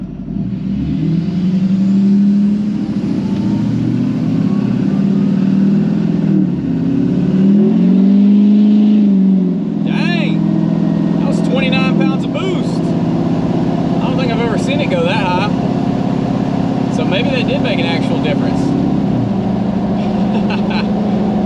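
A heavy truck engine with upgraded intercooler piping roars and revs up under load, its deep rumble rising and falling, with someone talking over it.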